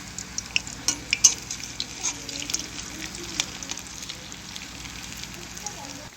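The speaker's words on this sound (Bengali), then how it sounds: "আমার ভাজা হয়ে গিয়েছে।" Pakoras frying in hot oil in a pan: a continuous crackling sizzle with scattered sharp pops and light utensil clinks, louder at the start and then settling into an even fry.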